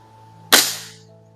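.25 calibre Theoben Eliminator air rifle firing a single sharp, loud crack that decays quickly, with a faint steady hum beneath and no talk.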